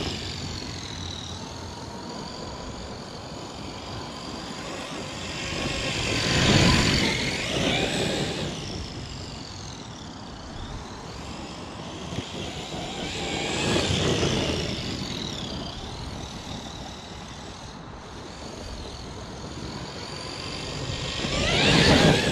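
A Traxxas Xmaxx 8s RC truck driving, its electric motor whining in three rising and falling surges as it speeds past and away, moderately loud with steady background noise between passes, no speech.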